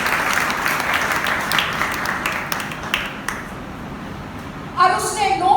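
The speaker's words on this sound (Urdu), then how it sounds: "چلیں پھر ایک دفعہ پھر زور سے تالیاں بجائیں" Audience applauding loudly in a hall during a Urdu-language Bible story session on Samson, with dense clapping that fades over several seconds before a voice starts speaking.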